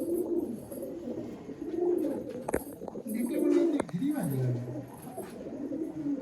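A pair of Malwai show pigeons coo in low, rolling, throaty phrases close by, repeating every second or two, with a couple of sharp clicks in between and no talking.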